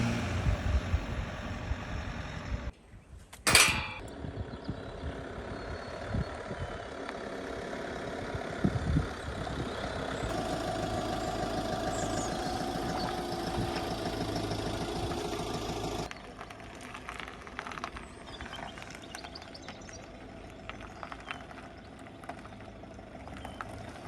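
A car engine hums and the road rumbles while driving through the Forest of Dean. The sound is low and moderate, with a sharp bump or knock near the start, and the tone shifts partway through.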